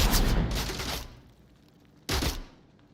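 Gunfire from the VR shooter Onward during a competitive match: a dense burst of rapid shots for about a second, a pause, then a second shorter volley, fairly distant and alone.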